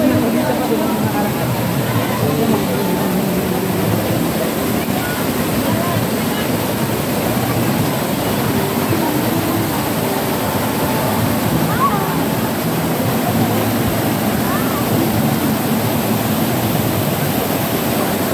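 Daranak Falls pours in a steady, broad rushing roar, loud and constant throughout, with people talking faintly under the water noise.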